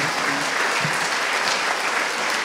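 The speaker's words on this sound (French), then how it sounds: "je propose qu'on se lève pour vous applaudir" A live audience stands and breaks into sustained applause, a dense, loud wash of clapping that holds steady from start to finish with no pause and no talking.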